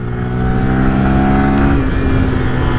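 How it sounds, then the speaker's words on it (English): 2025 Honda Grom motorcycle held at wide open throttle at about 25 mph, its engine buzzing steadily at redline, loud and close from the rider's position. "Wide open throttle. At 25 miles an hour, this thing redlined."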